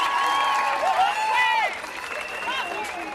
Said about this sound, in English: Can we give a round of applause for our next speaker